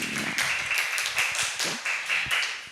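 A small group of children clap their hands in a brisk, rhythmic pattern for a few seconds during a primary classroom lesson, the claps close and fairly loud with no talking over them.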